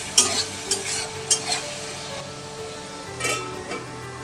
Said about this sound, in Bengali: মাংসটা একবার নাড়িয়ে দিচ্ছি।